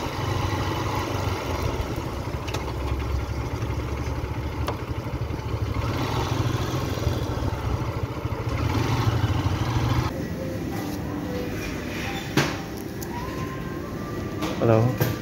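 A smoking motorcycle engine runs steadily throughout, a continuous low drone with some clatter during an adventure ride, loud and close, with a few brief knocks near the end.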